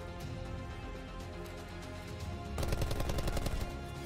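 Gunfire from Call of Duty Black Ops 4 on the Madagascar map, with steady game ambience before a loud, rapid automatic burst begins about two-thirds of the way through and rattles on to the end.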